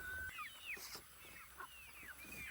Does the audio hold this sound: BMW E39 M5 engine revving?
no